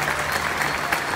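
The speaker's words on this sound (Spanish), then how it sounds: "vamos a dar entre todos un fuerte aplauso para la gente de la organización" A festival crowd at an outdoor folk music event in Mendoza applauds the organizers, a dense, loud wash of clapping that holds steady for the whole brief moment.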